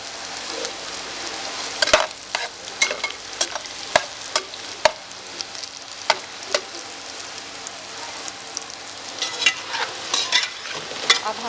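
Taro root (arvi) fries in hot oil in a pan with a steady close sizzle. Sharp pops and crackles of stirring recur throughout, and no voices are heard.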